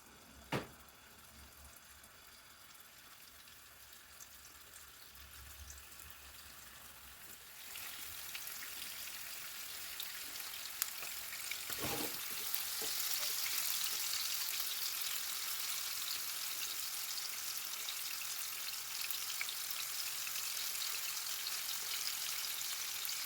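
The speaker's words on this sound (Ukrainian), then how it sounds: "Та ставимо у розігріту олійку смажитись" Food hits hot oil and a bright, crackling sizzle builds and holds steady, with a few pops and a clink near the start.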